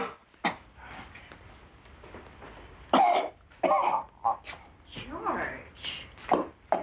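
A person coughs several times in hoarse, uneven bursts with throat-clearing between, close and fairly loud against a quiet room, in a 1990 TV movie scene.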